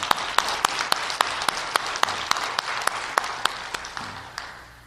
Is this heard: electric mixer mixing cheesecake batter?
no